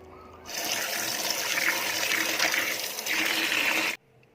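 Steady rushing, splashing water runs for a few seconds as aloe vera is washed to remove its slime, loud and close, then cuts off abruptly.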